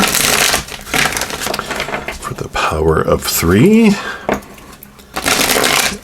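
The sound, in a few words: shuffling an oracle card deck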